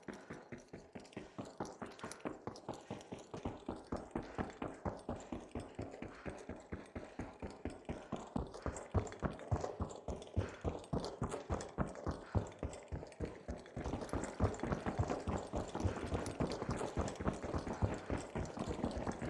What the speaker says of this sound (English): both medium and heavy have very similar sounding footsteps to enemy footsteps